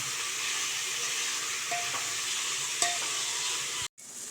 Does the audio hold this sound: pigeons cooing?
no